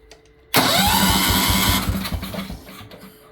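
A Kohler K241 10hp single-cylinder engine fires up abruptly and runs loud and close with a steady, rapid chugging beat that eases off slightly toward the end.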